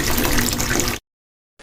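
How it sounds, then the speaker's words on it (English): Running tap water splashes steadily, as when washing a face at a bathroom sink, loud and close for about a second, then stops abruptly into silence before a brief faint resumption. "Wash my face."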